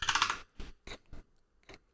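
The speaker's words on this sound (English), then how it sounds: "I just hold the command key on my keyboard and tap the space bar, and I just start typing audio" Keys clatter on a Mac computer keyboard, a quick burst of several strokes followed by four separate, crisp taps spaced apart, close and clear against silence.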